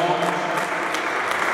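A church congregation applauding their preacher, a dense, even wash of clapping that holds steady through the short moment, with faint voices mixed beneath.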